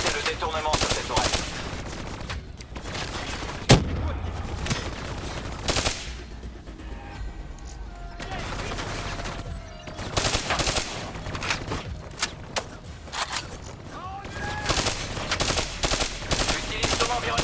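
In the Call of Duty video game, a turret's machine gun fires in repeated bursts of loud, rapid shots, with quieter gaps of game ambience and effects between them.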